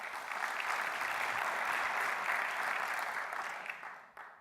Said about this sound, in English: Let's give a round of applause for Amy.